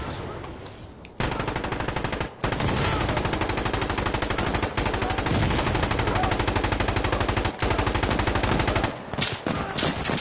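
Sustained machine gun fire in Insurgency: Sandstorm, loud and close, a long rapid stream of shots broken by a few brief pauses.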